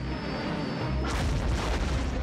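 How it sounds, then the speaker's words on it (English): A ship is destroyed in a Star Wars space battle in the Disney Infinity video game, a deep booming explosion bursting out of steady engine and battle ambience and rumbling on without fading. "one of my ships got destroyed"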